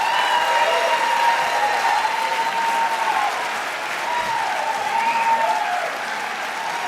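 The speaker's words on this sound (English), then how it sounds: "Let's hear it again for Annie." Audience applause fills the room after a storytelling performance, a steady, dense wash of many hands clapping that holds for about seven seconds without letting up.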